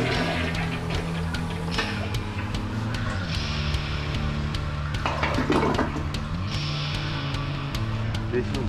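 A toilet flushes near a backed-up sewer drain, making a loud, continuous rush of water that surges twice over a steady low rumble, close and filling the room.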